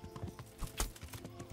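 Horse hooves clip-clop in a quick, even rhythm as a rider crosses the ground in the medieval game Kingdom Come Deliverance, faint and close without any voices.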